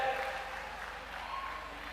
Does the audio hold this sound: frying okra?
no